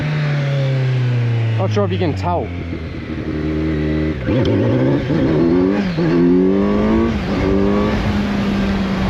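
A motorcycle with anti-wheelie in first gear revs its exhaust hard several times, rising and falling loudly up close, while someone talks over the engine.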